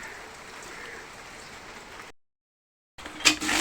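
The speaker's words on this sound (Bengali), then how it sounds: "বৃষ্টিও দিচ্ছে আকাশ পুরো মেঘলা করে আছে" Rain falls under a heavily clouded sky in a Bangladeshi village, a soft, even hiss of steady rainfall that breaks off in a short silence, then returns with a brief louder splash or clatter.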